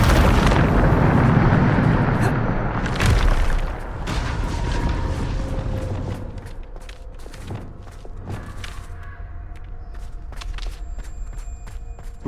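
Bombarda spell detonating in Hogwarts Legacy: a heavy, booming blast opens the clip with a rumbling low-end burst, then decays into scattered debris clatter, footsteps and sharp game effect hits over a lingering ambient drone.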